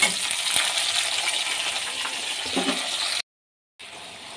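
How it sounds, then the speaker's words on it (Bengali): Onions tipped into a pan of potatoes already frying to a reddish brown, giving a dense, loud sizzle with a few clinks and stirring scrapes before it cuts out abruptly and resumes more quietly. "আমার আলুগুলো কিছুটা লাল লাল করে ভাজা হয়ে গেছে এবার আমি এতে পেঁয়াজগুলো দিয়ে দেবো"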